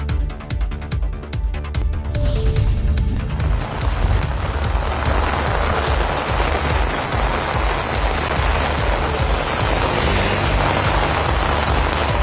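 Heavy rain pours down on a flooded residential area in Rameswaram, a dense, steady roar that swells in after about two seconds and continues loud and unbroken.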